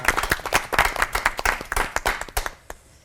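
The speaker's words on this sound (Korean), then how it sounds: "세 분의 목사님께 다시 한번 뜨거운 박수 부탁드리겠습니다." An audience at a Korean Christian TV lecture gives loud, close, dense hand-clapping applause for three pastors, which fades out after about two and a half seconds.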